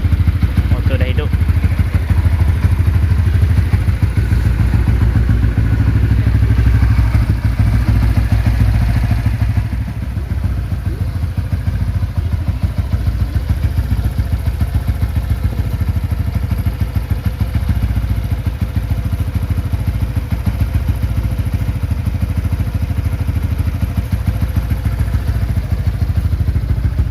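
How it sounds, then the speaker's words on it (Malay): A motorcycle engine idles steadily in a workshop while it is readied for a dyno run, a continuous low rumble with faint clatter that holds for the whole stretch, with a voice speaking over it. "Okey. Motor dah hidup."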